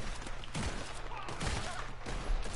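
Gunfire during a Red Dead Online shootout, a dense, continuous rattle of shots with thuddy low bursts around half a second, one and a half seconds and near the end, mid-distance and steady in level.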